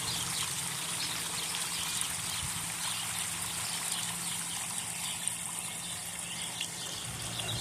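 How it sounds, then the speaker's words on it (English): Small backyard waterfall trickling steadily, a soft continuous wash of falling water heard from a short distance with no other sounds over it. "This is a really pretty yard. Little waterfall."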